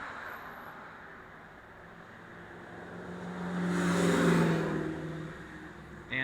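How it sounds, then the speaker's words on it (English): A vehicle on a busy road swells from faint to loud as it passes close by, its engine drone peaking midway and then fading, with steady traffic hum underneath and no voices. "Constant cars screaming by, trucks, motorcycles. Never ends."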